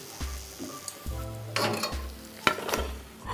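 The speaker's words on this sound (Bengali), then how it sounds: "এভাবে সব মালপোয়াগুলো ভেজে নেব" Malpua frying in oil, an up-close sizzle broken by several scraping and tapping strokes from a spatula, with one sharper knock partway through.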